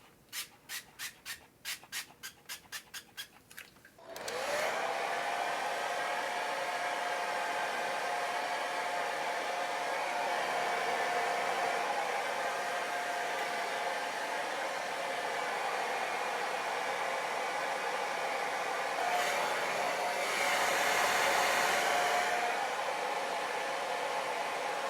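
A hair dryer whooshes continuously with a steady airy roar and a faint whine, preceded by a few quick clicking or rubbing sounds at the start.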